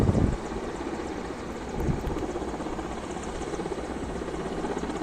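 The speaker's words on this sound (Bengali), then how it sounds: "আপনারা দেখতে পাচ্ছেন সামরিক বাহিনীর একটি হেলিকপ্টার" Military helicopter landing on the main field of Sher-e-Bangla cricket stadium in Mirpur during a drill, its rotor and engine roar steady, loud and close throughout, with no voices.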